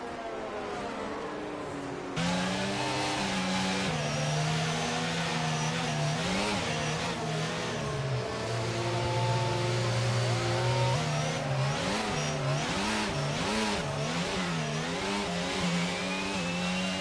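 Race cars in an F1 video game follow a safety car through Monza's Della Roggia chicane at the Italian Grand Prix, their engines droning and revving in rising and falling waves, loud and continuous, with no speech.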